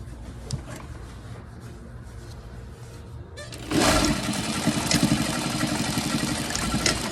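A sewing machine stitches down a folded edge on a fabric rose. Quiet handling comes first, then a steady whirring run of stitching starts partway through and continues close up to the end.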